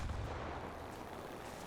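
Su-6 attack aircraft machine guns strafe ground targets in War Thunder, a brief dense burst of rapid, heavy gunfire that rumbles low and loud for under two seconds.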